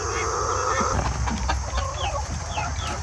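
Chickens and roosters cluck and call in a busy barn, a steady background of birds with short calls overlapping throughout.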